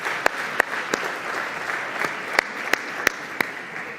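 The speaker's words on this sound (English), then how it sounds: "can we have a warm round of applause for all of our partners who make events like these happen?" A crowd at a business awards event in Mumbai gives a warm round of applause, dense and steady, with a few sharper claps standing out above the wash.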